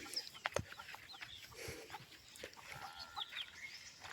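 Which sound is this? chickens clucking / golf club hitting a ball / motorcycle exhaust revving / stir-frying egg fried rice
chickens clucking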